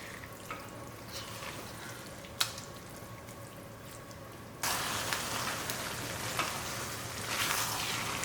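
Mango pickle frying in oil in an open pan, a steady dense sizzle and crackle that grows louder partway through, with occasional scrape or stir clicks.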